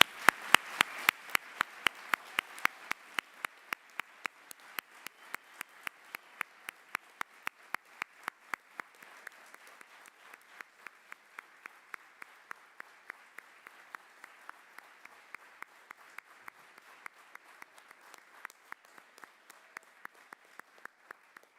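An audience at a Keilir graduation ceremony applauds in a hall, with steady rhythmic clapping that starts strong and gradually thins and fades while continuing, no talk over it.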